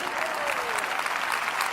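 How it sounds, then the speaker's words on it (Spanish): Applause from a church congregation during a sermon, a steady dense wash of clapping filling the whole moment at moderate level with no talk over it. "Si ustedes no aplaudían, yo iba a aplaudir."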